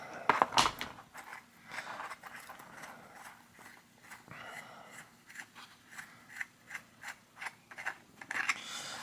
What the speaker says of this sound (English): I can go ahead and put a cone wrench on the cone there and loosen this lock nut here.